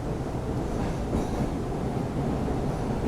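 An older Pullman-type subway train rolls along its rail line near Davis station, a loud steady rumble of wheels and car noise filling the whole stretch, with no voices over it.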